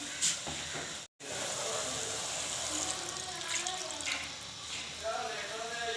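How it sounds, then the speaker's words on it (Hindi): Half a cup of water poured into a pan of chicken gizzards and liver cooking with garlic, giving a steady watery hiss and sizzle that runs through most of the clip after a brief cut. "पानी डाल दिया है।"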